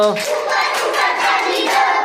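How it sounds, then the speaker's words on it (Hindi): Rhythmic hand clapping with the hands raised up high during a children's clapping song; crisp nearby claps sit under constant group singing. "ऊपर ऊपर ताली दो"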